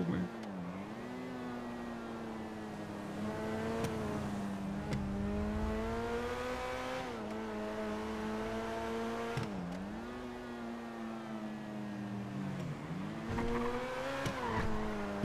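A car engine revs up and down repeatedly, pitch rising and falling in long sweeps, loud and steady with game-like engine tone throughout.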